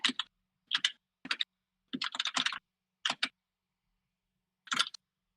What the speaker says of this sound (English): Can y'all hear that loud keyboard?